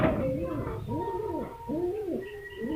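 Racing pigeons cooing close by, a series of soft rising-falling coos repeating in a steady rhythm, with faint talk in the background.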